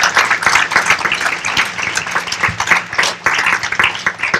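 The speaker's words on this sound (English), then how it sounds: "I would like for you guys to give a round of applause for Rachel Russo" A graduation ceremony crowd bursts into loud, dense applause, many hands clapping close and continuously with a few louder individual claps standing out.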